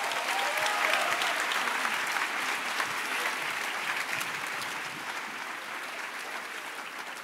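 A church congregation applauding, dense sustained clapping from many hands that fills the room at a steady level and eases off slightly toward the end.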